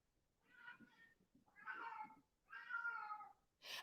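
A pet cat meows loudly and insistently indoors, three drawn-out, agitated cries in quick succession, with a fourth starting at the very end. Nobody talks.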